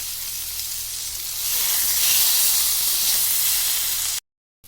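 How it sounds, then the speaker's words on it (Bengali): Potato pieces with salt and turmeric fry in oil in a pan, a close, steady sizzle that grows louder midway and then cuts off suddenly. "এভাবে আমি আলুটাকেও ভেজে নেব"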